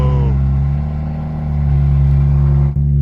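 A BMW M2 with an exhaust flap idles close by, a loud, steady low engine drone with a faint mechanical click near the end.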